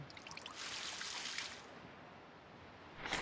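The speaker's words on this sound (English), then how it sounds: "We'll water this tree." Water trickles and pours onto a withered tree in a video game, a soft splashing stream lasting about a second and a half before fading, followed by a brief rustle at the end.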